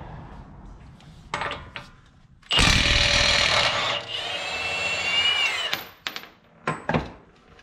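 An impact wrench loosens the CV axle nut on a Toyota FJ Cruiser. A loud, close, rattling buzz runs for about three seconds, with a few short clanks of tools before and after.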